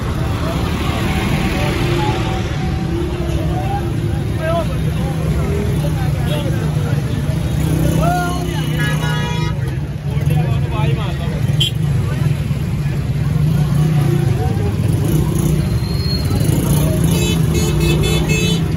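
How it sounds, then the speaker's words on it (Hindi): Heavy traffic on a busy main road at Mohammad Panah during a mela, with a dense continuous roar of cars, motorcycles and buses, scattered horn toots close by, and someone talking over the din. "बहुत ही ज़्यादा रश है गाड़ियों का।"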